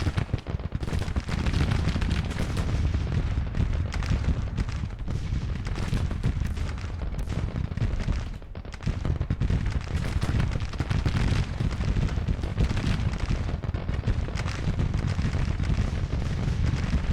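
Artillery fire rolls through a Civil War battle in the strategy game Grand Tactician, dense continuous booms and cracks of cannon and musketry, loud and unbroken except for one brief lull.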